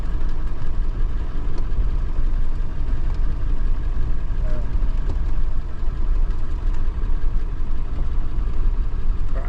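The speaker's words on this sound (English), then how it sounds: "We're idling through it." A vehicle engine idles as it creeps slowly through Valley of the Gods in hot weather, giving a steady low rumble close to the listener that runs continuously without people talking.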